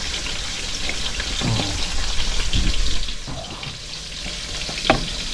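Broth poured into a pan of sautéing vegetables, a loud close hiss and sizzle mixed with pouring liquid and some stirring, continuing for several seconds.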